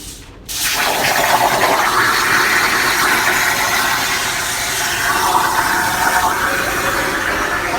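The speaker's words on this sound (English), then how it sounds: "Just putting a little bit of water in the table over there to keep the smoke down." Water gushes steadily into a plasma cutting table in a fabrication shop, a loud continuous rushing fill that starts abruptly and carries on without a break, with no speech over it.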